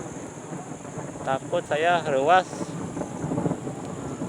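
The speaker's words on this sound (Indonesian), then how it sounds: "Wah, ada petir sahabat." Loud rolling thunder during rain in the countryside, a booming crack that swells and fades over steady rainfall, with a person speaking briefly over it.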